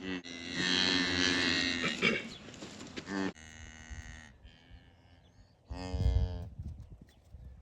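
Cattle lowing near a newborn solid black calf on a farm: a long, loud moo, then a quieter fainter call, then another strong moo near the end, with quiet gaps between.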